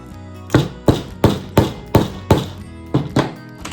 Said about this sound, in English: take your hammer and just do a few taps